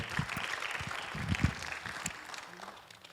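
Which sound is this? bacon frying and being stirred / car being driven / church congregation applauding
church congregation applauding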